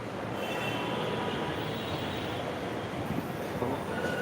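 A metro train at Karwan Bazar metro station in Dhaka gives a loud, steady rolling rumble with a faint rail hiss throughout, and no voices.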